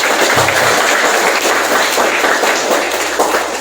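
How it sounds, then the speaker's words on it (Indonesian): A church audience claps for mothers during a sermon, a dense, loud, continuous burst of applause with no gaps. "Kita tepuk tangan dulu untuk mama."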